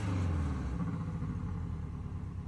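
A Porsche 718 Cayman GTS engine idles with a steady low rumble, continuous and fairly close, with no voices over it.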